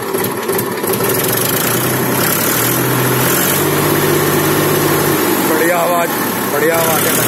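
A 1999 Mahindra 265 DI tractor diesel engine idles steadily nearby at a constant, loud rumble, with someone talking over it throughout.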